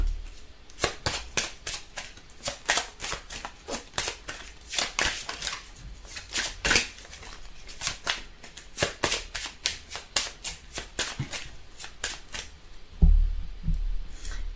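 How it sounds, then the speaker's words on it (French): Tarot cards shuffled by hand, a long run of rapid crisp riffling bursts in quick regular rhythm, close and fairly loud, ending with a soft thud as the cards settle. "on va tirer une petite carte de celui-ci"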